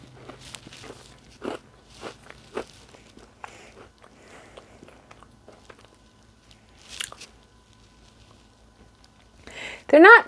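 Quiet, close-up crunches and soft chewing on a homemade pecan chew cookie, with scattered bites through a hushed room and a louder burst near the end.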